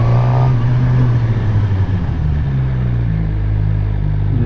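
Suzuki GSX-R 600 motorcycle heard close as it accelerates, engine tone rising steadily in pitch under constant rumble and wind noise.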